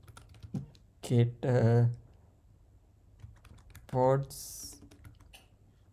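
Keys on a computer keyboard clatter in short, scattered clicks, quiet and close, interleaved with someone speaking briefly.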